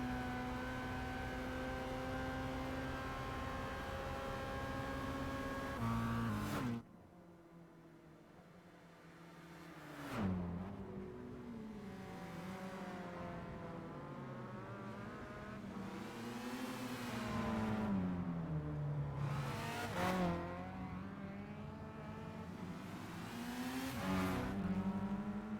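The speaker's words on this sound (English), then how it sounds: "FTO's overtaking the RX-7 again." Racing cars in Gran Turismo 5, including a Mitsubishi FTO overtaking a Mazda RX-7, whine loudly through rising and falling engine pitches and gear shifts, dropping briefly to a quieter drone before the revving swells again; no one speaks.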